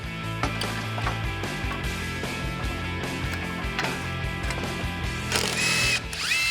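Ratchet clicking as a brake caliper comes off an old Chevy truck in a workshop, rapid metallic clicks over steady mechanical hum, with a brief higher squeak near the end.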